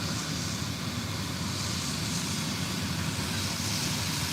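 A helicopter flies overhead, a steady, broad engine roar that stays loud and even throughout with no voices.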